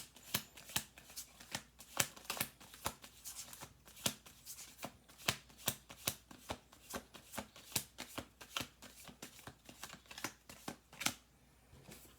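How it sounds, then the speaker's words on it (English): Playing cards are shuffled over and over in a steady series of crisp riffling bursts, close and fairly loud, with no talking. "One more shuffle"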